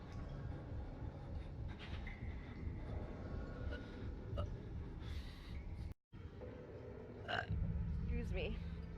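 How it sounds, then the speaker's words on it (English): A person burps several times, with gassy, drawn-out belches and small gasps over a low background rumble, heard close and at a moderate level. "I feel a burp."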